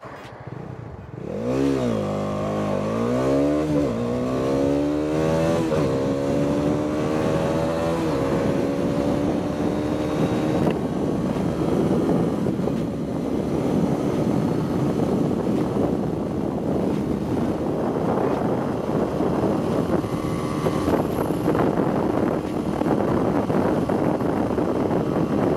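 A Bajaj Dominar 400 motorcycle accelerates hard toward top speed on a highway, its engine rising through several gear changes before settling into sustained wind-buffeted roar.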